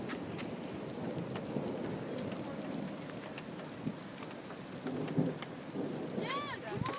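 Hail pours down during a Halloween thunderstorm with dense, steady pattering and distant rumbling. A few brief voices and bursts rise over it toward the end.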